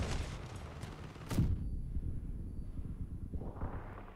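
Heavy cannon fire in the vehicle combat game Crossout, one loud booming blast cutting through continuous rumbling engine and battle noise, with the din dropping away briefly after the shot.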